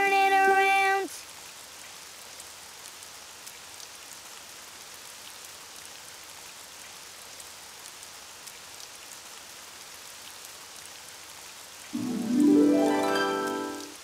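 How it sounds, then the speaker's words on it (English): Cartoon rain sound effect of rain falling outside, a soft steady hiss of drops running between short musical tones at the start and end. "It's raining outside."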